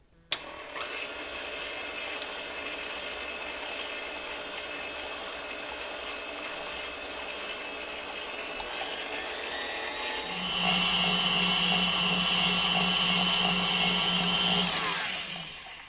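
An electric mixer stirs sugar syrup into bee fondant, a steady close motor whir that steps up to a louder, harsher hum near the end when switched to high, then cuts off.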